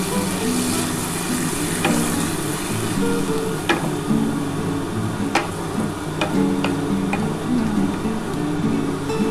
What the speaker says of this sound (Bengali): এবার কিন্তু এই মশলার জলটা দিয়ে দিচ্ছি